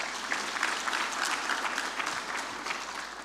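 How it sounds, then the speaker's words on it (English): Audience at a CEO summit breaks into sustained, dense applause, many hands clapping together in an even wash of sound at moderate volume with no voices over it. "I believe we can clap for them."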